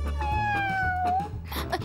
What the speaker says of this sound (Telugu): శివ, నాకు ఈ పిల్లి కావాలి.